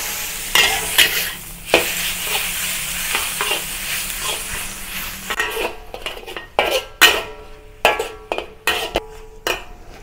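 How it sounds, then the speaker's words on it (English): Fatty pork stir-frying in oil in a wok over medium heat, a continuous sizzle broken by repeated sharp metallic clanks and scrapes of a spatula against the pan, loud and close. "Stir fry the pork over medium heat."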